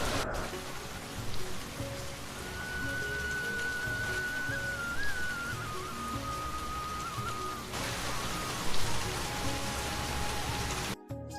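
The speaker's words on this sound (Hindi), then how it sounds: "फसल कटने से पहले ही तेज बारिश ने सब तबाह कर दिया।" Heavy rain pours over farm fields just before the crop harvest, a dense, steady hiss with a faint thin tone running through it and a sudden shift in intensity partway through.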